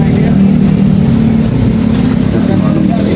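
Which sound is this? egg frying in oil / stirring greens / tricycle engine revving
tricycle engine revving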